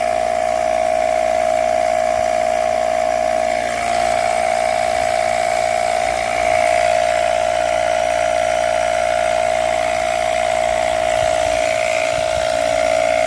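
An Audew 12V 130PSI cordless handheld tire inflator air pump runs steadily with a strong, constant motor whine and buzz, loud and close, holding a nearly unchanged tone with no talking.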